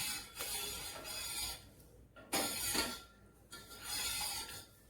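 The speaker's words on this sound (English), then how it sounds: "Keep on stirring on low flame." Custard stirred in a pan over a low flame, a spoon scraping and rubbing against the pan bottom in uneven strokes with short pauses between, fairly quiet and close.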